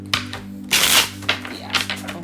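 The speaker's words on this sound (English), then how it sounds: "Okay, I think this might be the last shuffle." Tarot cards being shuffled give several sharp, close riffling bursts, the longest near the middle, separated by brief pauses.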